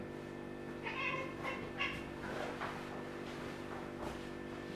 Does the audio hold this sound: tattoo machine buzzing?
no